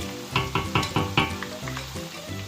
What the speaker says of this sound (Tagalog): Papulahin natin siya ng mabuti guys, yung bawang natin.